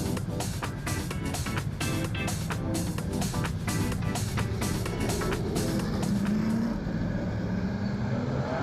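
Super saloon race cars roar off the start at Central Motor Speedway, a dense, steady engine drone from the pack with repeated pulsing surges and no speech over it.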